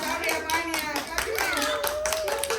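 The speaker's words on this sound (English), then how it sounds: "clap, clap, clap." Hands clap in a steady rhythm along with a children's ABC song at a campus visit, the claps sharp and regular beneath loud sung voices that dominate throughout.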